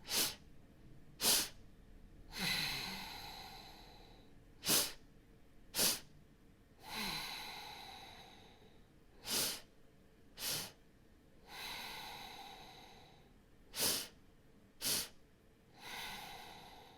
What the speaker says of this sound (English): So we're going to sniff, 2 sniffs in and 1 big exhale out.